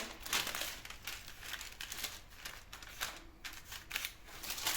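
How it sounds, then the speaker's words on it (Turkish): Paper rustles and crinkles as it is handled and folded over, soft irregular crackles close by and quiet, with no talking. "Şimdi kağıdımızı bir taraftan tutup şöyle birleştirelim."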